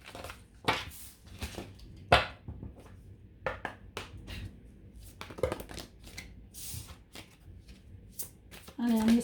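Oracle cards, an angel oracle deck and a fairy oracle deck, shuffled by hand in a tarot reading, giving a string of soft riffling and slapping bursts close by, with a voice speaking at times.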